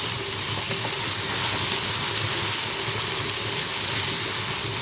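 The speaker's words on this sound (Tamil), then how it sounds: "அதையும் சேர்த்து வெங்காயத்தோடு வதக்கிட்டுக்கலாம் நல்லா நல்லா வதங்கணும் வெங்காயத்தோட தக்காளியும் கிளஞ்சி வரணும்" Onions and tomatoes sauté in a pan for mango vathal kuzhambu, a loud, continuous close sizzle and frying hiss with faint stirring underneath.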